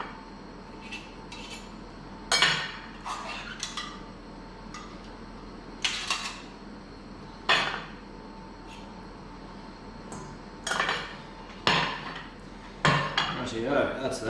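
Cooked potatoes for potato and ricotta gnocchi being pressed through a metal potato ricer, heard as a series of short clanking, scraping bursts spaced a few seconds apart, close and fairly quiet, with no talk.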